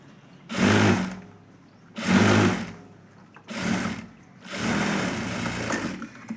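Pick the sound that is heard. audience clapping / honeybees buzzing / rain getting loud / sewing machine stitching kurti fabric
sewing machine stitching kurti fabric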